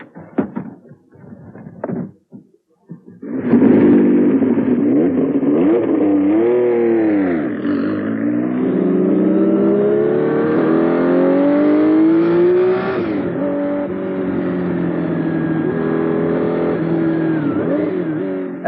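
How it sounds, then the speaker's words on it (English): A Rothmans Porsche 956 sports racing car from the 1980s revs loudly up close: a few short blips at first, then a sustained roar that rises and falls through the gears. "And this is the ultimate sport racing car of the 1980s."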